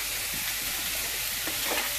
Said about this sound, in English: on top of the pork, we throw the ground beef. Yeah, it's sizzling